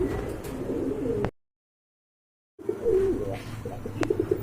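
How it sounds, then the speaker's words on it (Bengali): Lakka fancy pigeons coo at a pigeon sale, soft throaty calls repeating close by in two stretches split by a brief silence. "আরেক জোড়া কোয়ালিটি ফুল কবুতর দেখতে পাচ্ছেন যারা লক্ষা কবুতর পছন্দ করেন"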